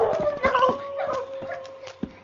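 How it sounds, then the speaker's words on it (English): A timber wolf howls as a sound effect in an old radio adventure drama set in the Yukon woods, a wavering, quavering cry with whimpering yips, close and alone without speech. "the terrifying cry of a timber wolf broke the stillness"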